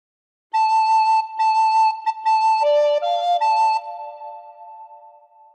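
Recorder playing a phrase of What Shall We Do With the Drunken Sailor: a run of clear, pure repeated notes with short breaks, a step up and down in pitch, then one long held tone fading out, close and alone.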